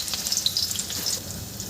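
Onion and ginger-garlic paste sautéing in oil in a kadhai for a veg Manchurian gravy, giving a steady, close hiss and crackle of frying with no voices.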